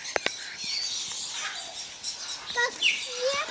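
Parrots in a bird aviary in Nha Trang, Vietnam, give shrill chirps and squawks, scattered and mid-distance, with sharp clicks and some background voices.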